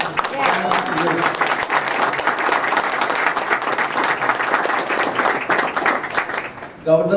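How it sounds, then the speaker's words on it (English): Sustained crowd applause for a governor at a grand opening ribbon-cutting ceremony, dense steady clapping for several seconds that fades near the end as a voice begins to speak. "let us give a big round of applause to our governor"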